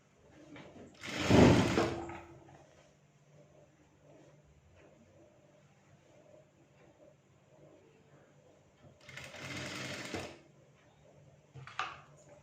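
A sewing machine stitches pleats on a child's skirt in two short, loud runs of rapid whirring, separated by a long quiet stretch of faint handling noises and ending in a brief final burst.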